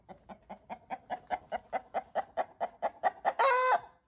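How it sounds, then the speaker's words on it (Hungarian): A flock of about twenty hens cluck in a steady, rapid series of short calls up close, ending with a louder, drawn-out squawk. "Hány tyúk van? 20 darab tyúk."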